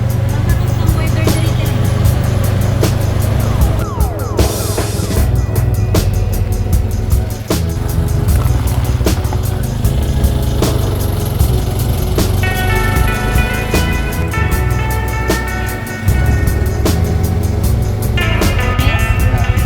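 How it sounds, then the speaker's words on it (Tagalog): A tuk-tuk auto rickshaw rides along a Sri Lankan road toward Katunayake bus station, its small engine giving a loud, continuous rattling drone with road and wind noise throughout, near and unbroken. "we are riding a tuk-tuk to go to Katunayaki bus station"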